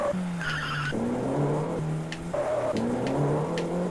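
Repeated car tire squeals from an arcade video game over a steady engine drone, several pitched screeches rising and falling in quick succession, loud and close with a slightly looped, synthetic quality.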